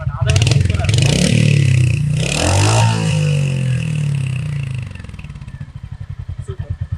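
A 2022 Royal Enfield Hunter motorcycle's exhaust note, close and loud: the engine revs up and swells, then drops back to a steady thumping idle with distinct, evenly spaced pulses.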